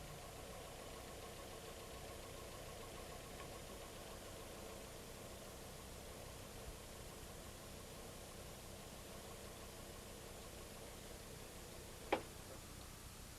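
Austin Metro engine idling too fast with the air filter removed, a steady continuous hum with a faint ticking running through it and one brief sharp click near the end, no voices.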